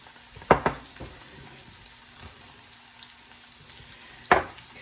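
Pasticcio meat filling cooking in a hot pan with salt and pepper, a quiet continuous sizzle punctuated by a few sharp clanks and scrapes of a utensil against the pan, close by.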